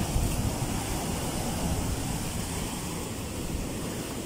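Rough sea on a storm-battered shore after Typhoon Egay, a steady broadband roar of surf and wind, fairly faint and unbroken, with no voices.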